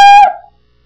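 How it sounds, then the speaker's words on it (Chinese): The default cat meow sound effect from Scratch plays once, a short, loud, clear synthetic meow ending in under half a second, followed by silence. "这是预设猫的声音"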